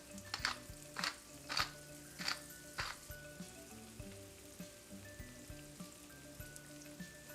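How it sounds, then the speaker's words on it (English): Breakfast potatoes fry in an oiled pan with a steady close sizzle, punctuated by several rhythmic scraping tosses as they are stirred, then a quieter continuous crackle. "I'll give these a toss to make sure everything's coated"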